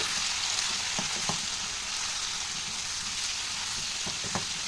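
Boiled elephant foot yam frying in a pan with salt and turmeric gives a steady, close sizzle, with a few soft clicks of stirring scattered through it and no talk.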